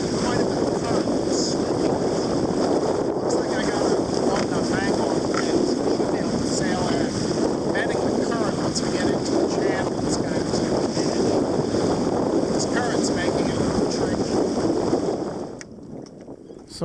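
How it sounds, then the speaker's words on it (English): A sailboat under way in wind near a creek entrance, with a continuous loud rush of wind and water noise across the microphone that fades out at the very end. "So now I'm preparing to sail into Broad Creek"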